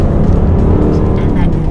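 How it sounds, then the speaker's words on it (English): A 2014 Range Rover Sport's supercharged engine growls steadily under hard acceleration, loud and close, with someone talking over it throughout. "and that growl of the engine is just delicious"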